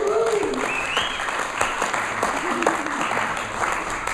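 A live audience claps under a voice at a stand-up comedy show, a brief moderate round of applause that stays steady behind the talk.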